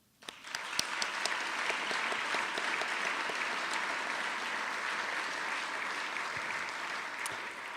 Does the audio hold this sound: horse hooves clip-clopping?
no